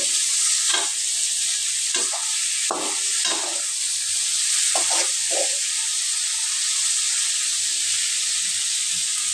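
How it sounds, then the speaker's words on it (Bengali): Fish fries in a pan with a loud, constant sizzle, while several clustered stirring scrapes come early on and then give way to uninterrupted frying. "এখন মাছগুলোকে ভালো করে কষিয়ে নেব"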